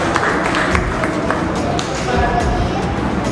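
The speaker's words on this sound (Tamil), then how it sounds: "எல்லாம் கைத்தட்டலாமா?" Children at a vacation Bible school clap together as a group. The applause is loud and dense throughout, and voices mix in with it.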